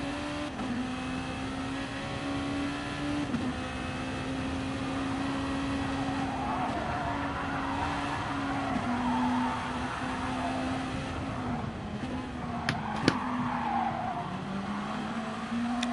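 Race car tyres squeal steadily through Haga corner at the ARC 1.5 Hours of Alsace, a sustained high whine riding over a loud, continuous engine drone, with a few sharp clicks near the end.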